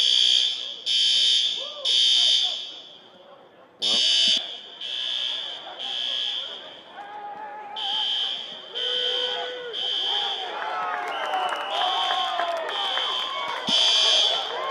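Fire alarm at a college football stadium blares in loud repeating bursts, sounding again and again across the clip, with crowd noise and a voice underneath.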